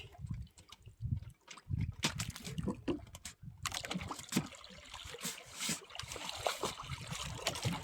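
A bangka boat is hauled by hand through the water, with intermittent splashing, sloshing and trickling, fairly faint and irregular, growing busier partway through.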